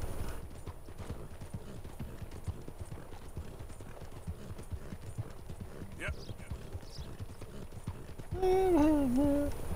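Rhythmic clip-clop of horse hooves in Red Dead Redemption 2 at a steady trotting pace throughout, ending with a loud horse whinny near the close.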